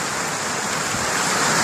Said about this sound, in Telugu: ఫుల్ వాన కొడుతుంది మా కాడ.